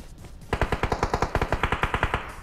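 Automatic gunfire in PUBG Mobile on the Sanhok map: a rapid burst of about fifteen evenly spaced shots, loud and close, with no talk.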